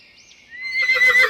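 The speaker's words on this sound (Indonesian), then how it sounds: "Keluarlah seekor kuda." A horse neighs in a rising, quavering whinny that swells from a thin opening into a loud, full call, heard alone and close within a playful cartoon setting of washing muddy animals.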